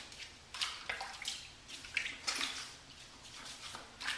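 A shavette straight razor is rinsed under running water at a sink, with soft, irregular splashes and trickles in short bursts, faint and close by.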